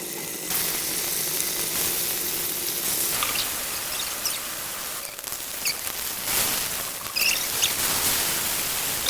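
Fish pieces frying in oil in a wok give a steady, hissing sizzle throughout, with occasional louder pops and crackles rising from the pan.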